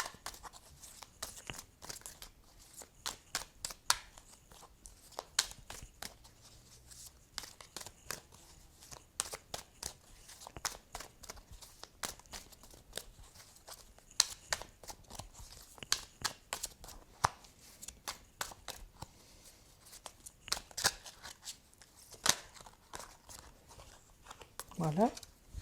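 Tarot cards are shuffled and drawn in a run of rapid, crisp clicks and papery flicks that come in bursts over nearly half a minute, with someone talking over them.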